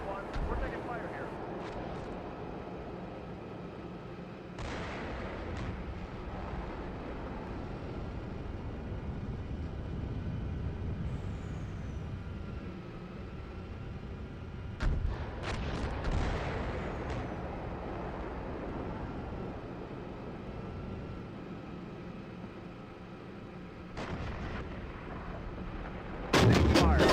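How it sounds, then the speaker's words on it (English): Gunfire and artillery-like blasts in a military video game: scattered sharp shots and heavier booms recur over a constant low rumble, with radio-style voices talking throughout. "1-1, we're taking fire here."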